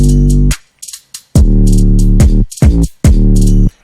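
An 808 bass without reverb widening plays in Ableton Live, with deep sustained bass notes in a short pattern alongside crisp hi-hat ticks, loud and dry.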